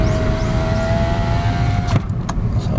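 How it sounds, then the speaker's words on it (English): A car's electric power window whirs up with a steady motor whine over road and engine noise, ending in a soft thump as it seals shut while driving down a mountain. "I'm actually going to roll up that window."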